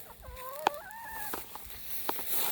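Chickens on a ranch cluck and call nearby, a short rising crow-like cry followed by a few scattered clucks against quiet outdoor ambience.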